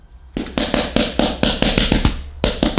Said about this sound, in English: As we tap the filter on the floor